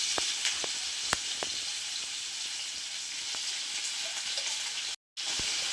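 Paneer sizzles steadily in hot ghee in a home kitchen, a continuous bright frying hiss with scattered small pops and crackles, briefly cut out near the end.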